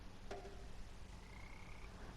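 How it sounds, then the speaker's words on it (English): Frogs croaking in a swamp pond in the video game Memoranda: a single short croak followed by a thin sustained tone over a steady low ambient bed. "And speak to the army of frogs."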